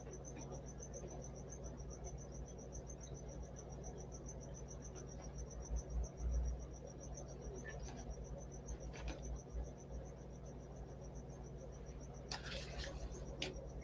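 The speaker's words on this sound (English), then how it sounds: "Got this damn cricket I can hear from the enclosure back here." A cricket chirps steadily from an enclosure indoors, a fast, even, high-pitched trill running throughout at moderate volume, with a few soft knocks and rustles in the room.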